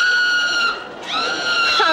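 A loud, sustained, high-pitched scream as a sound effect on a Halloween party radio record, wavering briefly before rising again.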